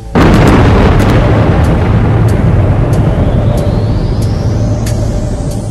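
Big Bang explosion sound effect, a sudden loud boom that hits at once and then sustains as a dense roaring rumble with scattered sharp crackles and a faint rising whistle as it slowly fades.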